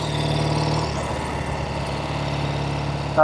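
A red 1968 Triumph Bonneville vintage motorcycle under way, its engine running as a steady, close mid-pitched drone with a slight shift in tone partway through.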